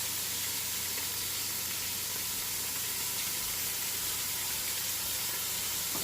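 Birria de res sauce hits hot meat in a pot over low heat, giving a steady, dense sizzle and hiss that holds evenly the whole time with no talking.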